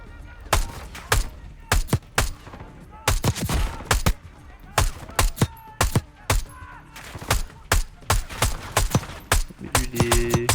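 Rapid bursts of gunfire from Call of Duty Black Ops 6, loud and close, repeated shots in quick clusters with brief gaps, ending with a faint tonal game sound.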